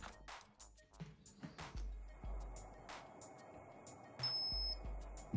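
A few short electronic beeps from a Kitchenboss G320 sous vide cooker reaching its preset water temperature ring out over kitchen clatter and knocks, with a brief higher tone near the end; no one speaks.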